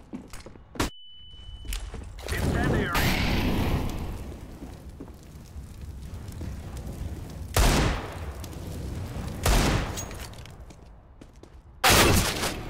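P90 submachine gun fire in CS:GO Wingman: sharp rapid bursts and scattered single shots at close range, separated by footsteps and game mechanism noises, with loud bursts near the start and end.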